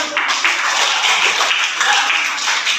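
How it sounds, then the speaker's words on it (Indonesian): A class of students bursts into loud, sustained applause, a dense, continuous patter of many hands clapping close by without pause. "Beri tepuk tangan."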